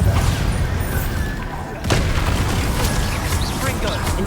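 A Bombarda blast spell in a Harry Potter video game, a loud booming burst that swells suddenly after a brief dip and rumbles on through dense layered game sound effects.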